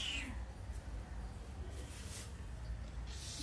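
A cat eating fish lets out a clear, drawn-out meow at the start, followed by a few quieter cat sounds against a low background rumble.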